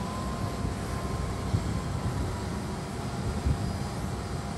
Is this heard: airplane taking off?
yes